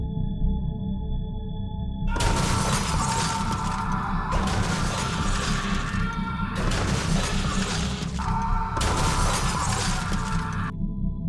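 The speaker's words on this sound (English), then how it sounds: "I could hear him even over the crunching of the metal and the shattering of glass" Loud, repeated crashes of shattering glass and crunching metal arrive in several heavy bursts over a constant low rumble, each burst lasting about two seconds with short gaps between them.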